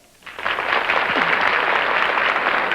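Applause swells up from quiet into a steady, dense clapping from a large television studio audience, sustained and fairly loud.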